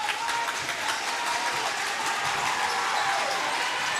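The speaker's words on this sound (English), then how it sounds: "Crowd getting into it here." High school men's basketball crowd cheering in a gym during a Lawrence County versus Franklin County game, a dense steady roar of applause and voices filling the hall with no pauses.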